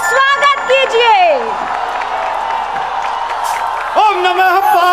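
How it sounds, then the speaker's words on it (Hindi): A large audience in Varanasi breaks into loud applause and cheering to welcome Dr Kumar Vishwas on stage. A dense wash of clapping fills the middle, with voices and chanting at the start and the end. "जोरदार तालियों के साथ डॉक्टर कुमार विश्वास का स्टेज पर स्वागत कीजिए।"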